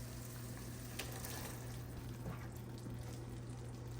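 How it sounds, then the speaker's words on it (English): Cauliflower in Mandarin sauce frying in a pan gives a steady, close sizzle and crackle that holds evenly throughout, with no talking. "Now I'm going to pour it into the pan."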